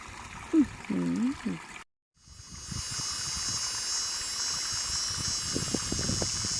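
Flowing stream water gives a steady, close rushing wash, heard after a brief voice and a short silent gap.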